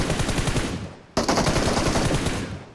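Rapid automatic enemy gunfire in PUBG Mobile, dense rattling bursts that break off briefly and then resume, loud and continuous throughout.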